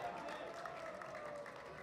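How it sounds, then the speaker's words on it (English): A high school baseball crowd at a regional semifinal roars and claps for a Grizzlies seventh-inning rally, the cheering a faint, distant wash that continues steadily under a nearby announcer's voice. "Crowd is riled up here for a Grizzlies 7th inning comeback"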